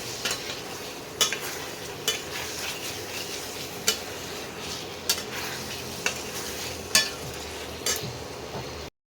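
Potatoes sauté in an oiled pan for shahi cauliflower, a soft continuous sizzle with a spatula scraping and knocking at irregular intervals, close and unaccompanied by speech.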